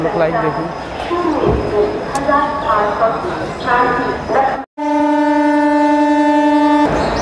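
A railway platform scene with crowd chatter and footsteps, then a loud, sustained train horn blaring steadily for about two seconds close by.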